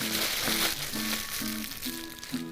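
Beetroot being wrapped first in baking paper and then in aluminium foil, with close, repeated crinkling and rustling in a rough rhythm.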